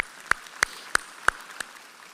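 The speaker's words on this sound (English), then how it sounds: "Give him a round of applause." Five slow, evenly spaced single claps ring out sharply against a quiet room at a San Jacinto College spring commencement ceremony as a board chair is introduced. There is no talking.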